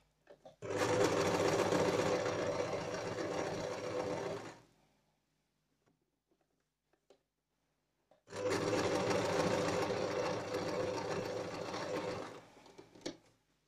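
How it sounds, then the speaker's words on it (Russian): A sewing machine stitching the seam of a fabric scrunchie hair tie runs in two steady bursts of rapid, even whirring of about four seconds each, separated by a short quiet pause, close and clear with no talking. "И наша задача сшить вот этот вот шовчик."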